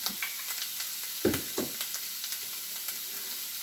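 Sausage fries in a pan with added bacon grease, a constant bright sizzle with a few louder spatters and scraping stirs near the start, close and unaccompanied by talk.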